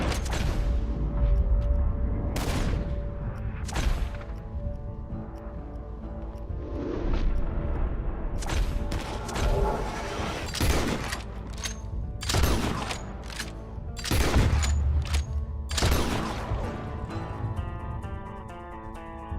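Repeated gunfire in the Western video game Red Dead Redemption 2, loud sharp shots in irregular bursts over a rumbling game soundscape, no talk.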